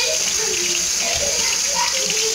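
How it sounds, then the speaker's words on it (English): Kitchen tap running water into a sink, a steady close hiss of flowing water throughout. "The water's on."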